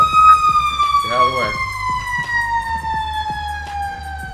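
A fire engine siren sweeps slowly downward in pitch as the truck passes close on a city street, loud over engine rumble, with a brief voice heard partway through.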